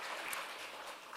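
A church congregation applauds in a continuous, soft wash of clapping that sounds somewhat distant and fairly quiet, holding steady through the brief moment without any voices.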